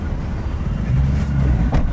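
Steady low rumble of busy street traffic outside a house in Juhu, Mumbai, with a passing vehicle surge near the end, continuous and fairly close, with faint voices in the background.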